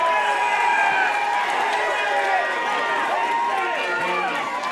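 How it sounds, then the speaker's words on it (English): A wrestling crowd at a live RYSE Wrestling event cheers and roars wildly and continuously, a dense, loud wall of voices that holds steady throughout with no break. "This crowd is coming unglued at the prospect."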